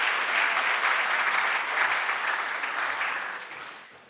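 Steady applause from a seminar audience on careers, dense and moderately loud, fading toward the end.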